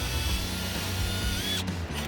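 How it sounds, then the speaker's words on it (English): A power drill with a 1/8 bit bores into a subwoofer enclosure through the driver's side rear panel of a Toyota Tacoma, a close, loud steady whine that cuts off sharply near the end. "Using a 1/8 drill bit, drill 4 holes into the sub-enclosure through the previous drilled holes on the driver's side rear panel."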